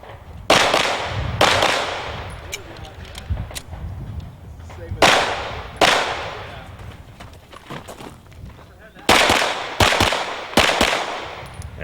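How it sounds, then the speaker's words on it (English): Rapid pistol fire during an IDPA match as a competitor draws fast from the holster, sharp loud shots in bursts of two with pauses between, each ringing out with reverberant decay on an outdoor range. "Dick out of the holster fast, shooting fast."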